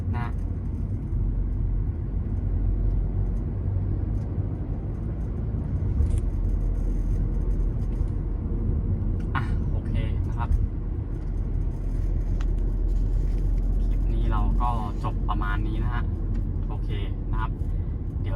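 A BMW F10 sedan with the N47 diesel engine and a remapped ECU drives along, its steady low engine and road rumble continuous throughout, with someone talking over it at times.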